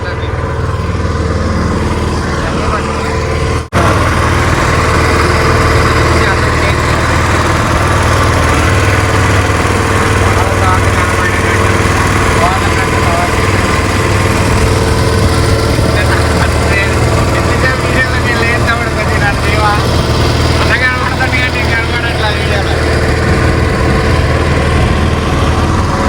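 A Honda GX160 engine fitted to a fishing boat runs steadily and loud, a constant close drone with a brief dropout early on, while voices murmur faintly underneath.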